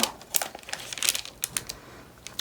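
A single sheet of origami paper is creased and folded for a peacock model, making close, crisp crackles and sharp clicks in quick irregular bursts.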